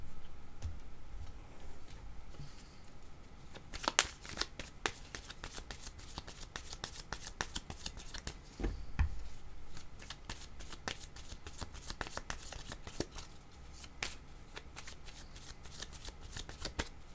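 Tarot cards are shuffled close up in quick, crisp riffles and flicks, a busy run of soft slaps and ticks with no talking.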